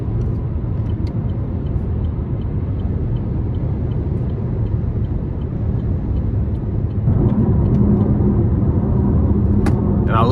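Inside the cabin of a 2024 Chevy Malibu with a 1.5 turbo four-cylinder and CVT, a steady low road rumble and faint wind hiss run throughout, swelling slightly louder near the end.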